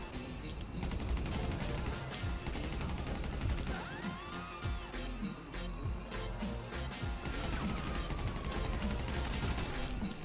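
Rapid, dense gunfire in a video game, continuous loud bursts of shots and ricochet-like whines running throughout without pause.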